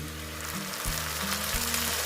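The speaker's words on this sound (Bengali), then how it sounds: "এই যে পেঁয়াজটা মোটামুটি ভাজা হয়েছে এইবার আমি এই যে টমেটোটা দিয়ে দিচ্ছি" Chopped tomato frying with onions in a pan, a soft, even sizzle holding steady under a low background hum, close and quiet.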